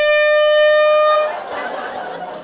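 A car horn honks in one long, loud sustained blast, then cuts off into noisy street background.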